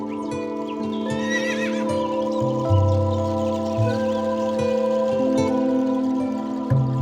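Horses on the Mongolian steppe neigh and whinny in a loud, wavering call, accompanied by hoof clip-clops, all heard beneath a sustained layer of droning musical tones.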